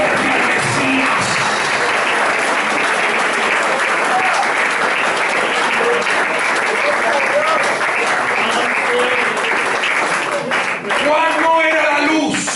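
A church congregation breaks into loud, sustained applause and cheering, with a preacher's voice rising over the clapping near the end.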